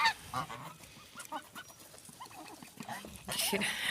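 Loud honking and quacking calls from domestic ducks close by, including a large drake, several birds calling in irregular bursts with short gaps, a harsher burst near the end.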